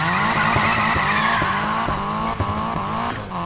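A Nissan Silvia drifts through a street course in Need for Speed Payback, its tires squealing continuously over a revving engine whose pitch rises and falls, loud and close throughout, with no talk.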